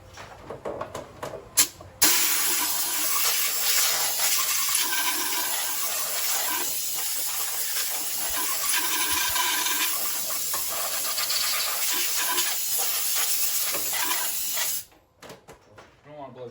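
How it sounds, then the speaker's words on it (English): A compressed-air hose blasts debris out of a lawn mower during annual maintenance, a steady loud hiss running about thirteen seconds after a few short bursts, then cutting off to quieter clatter. "So let me bring that air hose over. We'll blow that out."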